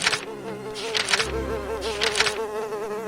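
A housefly (Musca domestica) buzzes close by in a steady, droning hum whose pitch wavers up and down, swelling louder in a few brief surges as it moves around.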